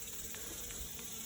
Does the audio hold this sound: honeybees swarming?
yes